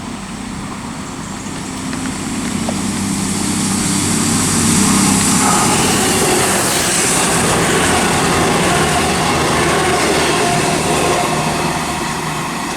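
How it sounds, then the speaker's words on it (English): A four-car CrossCountry Class 221 Voyager diesel train approaches and passes Reading West, its engine noise building from a distant hum to a loud, sustained roar before easing slightly at the end. "I can hear the Voyager from here"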